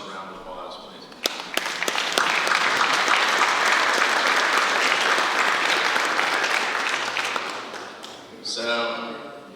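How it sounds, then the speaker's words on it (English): Banquet audience at an awards dinner breaks into sustained applause, opening with a few scattered claps that swell into dense, even clapping before fading as a voice returns near the end. "I'd like you to give yourselves a round of applause, please."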